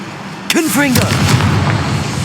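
A Confringo blasting spell in Hogwarts Legacy goes off with a sudden loud explosive boom after a brief shout, followed by a rumbling tail; a voice is heard just before the blast.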